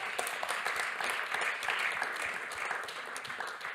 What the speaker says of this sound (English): Join me for an applause